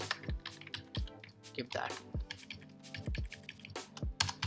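Computer keyboard typing in short bursts of clicky keystrokes, close and fairly quiet, under someone talking.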